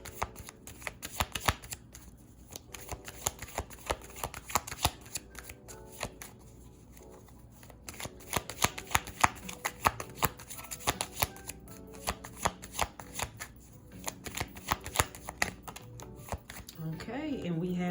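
Tarot cards being shuffled by hand in a rapid, irregular flurry of close, crisp riffles and slaps that keeps going, under occasional soft talking.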